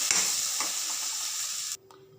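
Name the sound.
okra frying with turmeric powder in a pan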